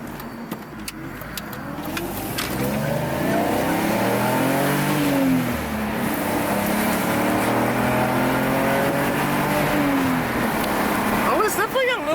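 A tuned BMW E46 328ci accelerates hard on a test drive, its engine note climbing through rising sweeps with gear-change dips, loud and steady from inside the car, with faint speech early on.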